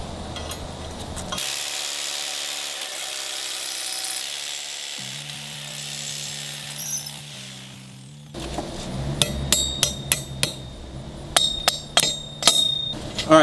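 Anchors being hammered into wood while mounting a stair grab rail: a steady power-tool whir gives way to a string of sharp, close metallic hammer strikes in quick irregular bursts.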